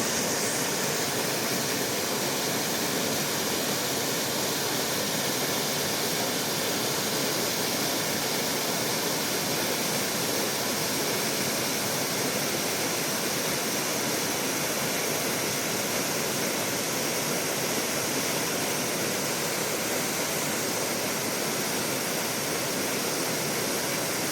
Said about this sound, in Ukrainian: Подивіться, який шумний сьогодні гуркало.